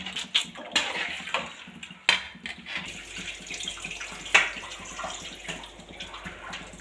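Tap water running and splashing while fish pieces for chepala pulusu are washed, with uneven gushes and sharp splashes close by.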